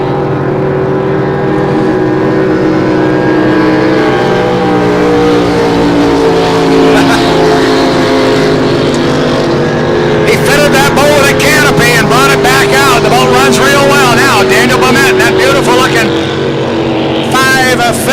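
A loud Pro Stock racing powerboat engine drones and whines steadily during a race final, pitch shifting as it passes, with a race commentator talking over it throughout.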